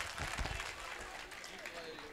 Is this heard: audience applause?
yes